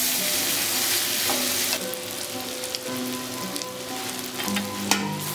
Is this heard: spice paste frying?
yes